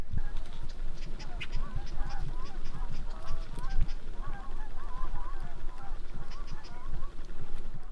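Many geese honking at a distance from a duck blind, a busy continuous chorus of calls with low rumbling background noise.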